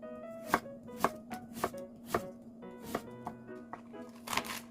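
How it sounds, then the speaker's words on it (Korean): Knife slicing radish thin for shrimp, radish and cabbage soup, about ten crisp chops on a cutting board in an uneven rhythm, close and clear against a quiet kitchen with a faint steady hum beneath. "천연 소화제라고 불릴 만큼 탄수화물 분해 능력이 탁월한 무. 나박나박하게 썰고"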